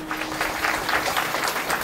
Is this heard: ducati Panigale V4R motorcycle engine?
no